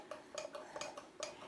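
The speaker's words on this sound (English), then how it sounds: "So I'm just mixing this up in the water." A spoon stirs almond butter into water, clinking against the bowl in four or five quick, light taps spaced unevenly, close and quiet with no talking.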